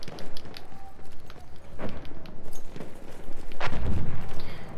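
Full-auto weapon fire in the video game Battlefield 1 crackles through a busy battlefield mix, with a heavy low boom near the end and continuous background action.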